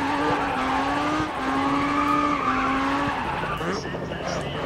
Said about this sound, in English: Still so good to drift in this game.